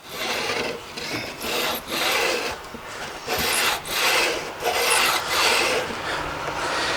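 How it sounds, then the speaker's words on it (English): A metal file, guided by a Teflon edge resting on the fretboard, bevels the fret ends on a guitar neck, giving about eight rhythmic rasping strokes in close succession, close and clear with no talk. "Now we'll take this file, and this one just sits on the fretboard, the Teflon edge,"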